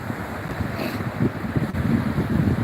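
Wind gusts and sea waves wash onto a winter beach, a steady, loud roar of surf and buffeting microphone wind with no voices.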